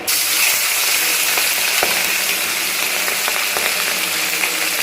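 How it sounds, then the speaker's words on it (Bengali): Fish frying in smoking-hot oil in a wok, giving a loud, continuous crackling sizzle close up with faint scattered pops, and no voices. "তেলটা একদম দেখো ধোয়া উঠছে, দিয়ে দিয়ে এবারে মাছগুলো"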